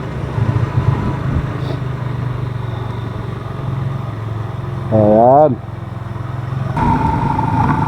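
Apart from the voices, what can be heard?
motorcycle engine idling and revving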